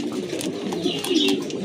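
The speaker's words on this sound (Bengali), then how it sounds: "খুবই সুন্দর কবুতরগুলো দেখতে" Pigeons coo softly at a market stall selling pigeons, several low throaty calls repeating close by against faint background chatter.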